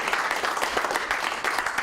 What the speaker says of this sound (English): let's give everybody a warm round of applause